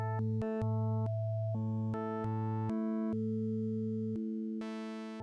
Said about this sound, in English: So let's go to the wavetable 10 no interp.